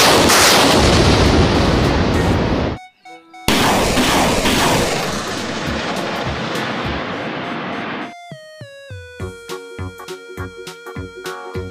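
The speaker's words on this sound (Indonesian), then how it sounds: "Mobil truk militer pembawa roket." A military rocket launcher truck fires a loud, dense roaring barrage, pauses briefly, then roars again before giving way to sharp, rhythmic electronic-sounding tones, with no talk.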